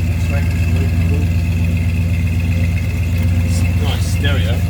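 Ford Fairmont XW engine idling through an extracted exhaust, a steady deep low rumble that holds loud and continuous throughout with a faint higher whine above it.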